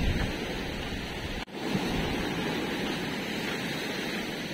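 Ocean waves wash onto a shore in a continuous loud roar with wind buffeting the microphone, broken by a brief dropout.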